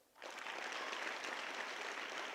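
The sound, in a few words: audience applauding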